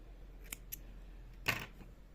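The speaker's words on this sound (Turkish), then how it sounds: "Sıkıca bir zincirden sonra ipimi kesiyorum." Scissors snip through yarn after a crochet chain on an amigurumi tennis ball, giving two faint quick clicks followed by one sharper, louder cut, close by in a quiet room.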